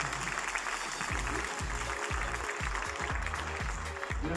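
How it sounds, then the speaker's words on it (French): Audience applause fills the hall at a youth council induction ceremony in Villenave d'Ornon as elected children walk down, a dense steady patter with a low rhythmic thumping running under it. "Et vous pouvez les applaudir alors qu'ils descendent."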